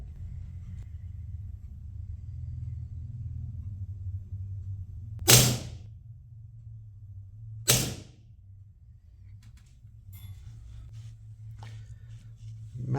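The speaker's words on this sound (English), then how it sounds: "We're going to fire 2 shots with the Koi." An air pistol fitted with a Donnie FL Koi silencer is fired twice, several seconds apart. Each shot is a short, sharp muffled crack over a steady low background rumble, with no talking.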